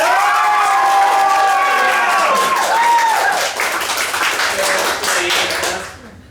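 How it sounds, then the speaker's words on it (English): An improv comedy audience bursts into loud clapping, cheering and whoops, a dense crowd roar near the start that thins to scattered claps and fades out over about six seconds. "Can I hear a round of applause for spend the money on the party?"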